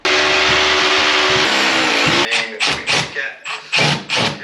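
A power drill whines loudly and continuously as it bores into a wall to fix pipe clips for a house plumbing renovation, then breaks into short, uneven bursts of drilling.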